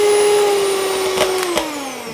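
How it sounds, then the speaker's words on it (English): An electric whisk mixing batter at home: a loud, steady motorised whirr with a slight drop in pitch near the end, heard up close without talk. "Give it all a good whisk."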